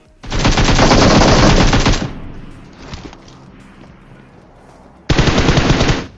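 Loud, rapid automatic gunfire in PUBG Mobile bursts for about two seconds, falls quiet apart from a faint shot, then another rapid burst erupts.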